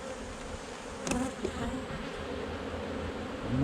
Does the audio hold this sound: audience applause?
no